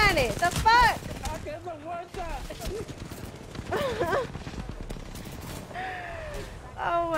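Rapid video game gunfire crackles in bursts beneath excited gamer chatter and in-game voices, the shots dense and overlapping, mixed with other game effects and occasional tonal sounds.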